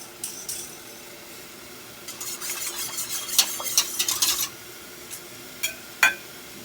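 Whitefish from Bistro Lake sizzles in a pan turned up to high heat, a soft crackle broken by a burst of stirring and scraping clatter in the middle and a couple of sharp knocks near the end.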